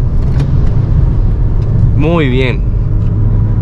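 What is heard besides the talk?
car with automatic transmission driving and downshifting on road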